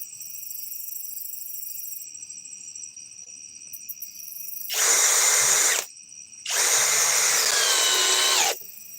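A power drill runs in two loud bursts, about one and two seconds long, with a short pause between, boring into a workpiece under a steady high insect-like buzz.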